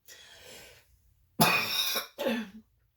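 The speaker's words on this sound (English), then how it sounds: "the amount of coughing" A soft breath, then two harsh, close coughs in quick succession with a short gap between them.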